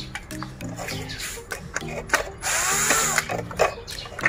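A screw being undone on a Mazda CX-5 side mirror during repair, heard as close, uneven bursts of small tool whirring and ratcheting with scraping, rubbing clicks.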